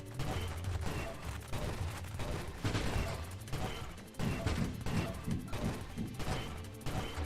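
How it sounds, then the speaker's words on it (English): Flak shotgun in the space shooter Nova Drift fires in dense, continuous bursts of crashing blasts, loud and busy throughout with no talking. "Okay, it's a shotgun."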